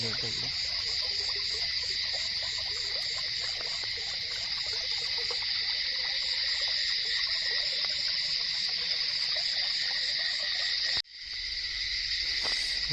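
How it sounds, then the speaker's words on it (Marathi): Dense, continuous insect trilling fills the night around 11 p.m. in Konkan, a steady high-pitched chorus of crickets that cuts off briefly near the end before resuming. "रातकिड्यांचा आवाज तुम्ही ऐकू शकता"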